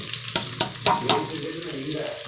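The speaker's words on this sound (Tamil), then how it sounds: "நல்லா பொரியுது இப்போ வந்து இந்த ஸ்டேஜில் ஒரு மூணு வெங்காயம் கட் பண்ணி வச்சுருக்கோம் அதையும் போட்டுக்கலாம்" Onions frying in oil in a pan for a homemade kurma, a steady crackling sizzle with a few sharp stirring clatters early on, close and alone.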